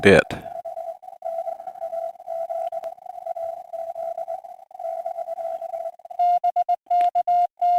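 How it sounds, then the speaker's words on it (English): A steady Morse code sidetone from a ham radio, sending a stream of dits and dahs in an even rhythm, then a few crisp, louder keyed bursts near the end. "As soon as I hear him send a dit."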